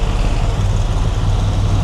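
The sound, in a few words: noisy bus passing on Bangkok street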